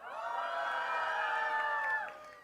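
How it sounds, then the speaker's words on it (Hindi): A preschool event audience lets out a sustained chorus of hooting and cheering, many voices blending into long, rising whoops that hold steady for about two seconds before fading out. "Give me some hooting please."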